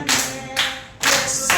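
A church congregation claps along to a Korean praise hymn, dense crowd applause coming in loud, close surges with short dips between them.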